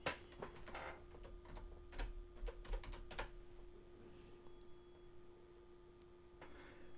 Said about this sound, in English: we're going to just type wish list